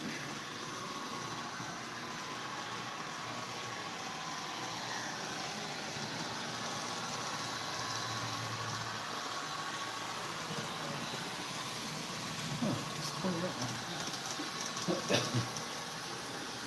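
A model train runs on its layout, giving a faint, steady whirring rumble that holds evenly throughout, with a few light clicks and knocks near the end and no one talking.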